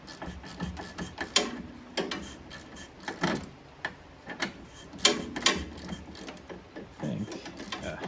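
A ratchet turning a 14 mm socket to undo a sway bar bolt, a run of quiet clicking strokes in short irregular bursts, close and fairly faint.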